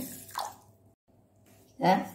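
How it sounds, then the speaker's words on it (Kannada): Finger millet (ragi) is washed in water, with two brief, soft swishes and splashes separated by a near-silent pause, quiet and close. "ನೀರು ಹಾಕೊಂಡು 3 ಸರ್ತಿ ರಾಗಿಯನ್ನು ಚೆನ್ನಾಗಿ ತೊಳಿತೇನೆ."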